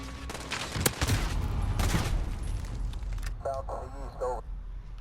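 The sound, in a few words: shotgun fire in the video game Call of Duty Modern Warfare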